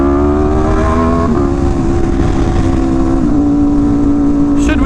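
An Aprilia RSV4 1100 Factory motorcycle engine runs loud and close, a steady harmonic drone with small pitch shifts and light revving.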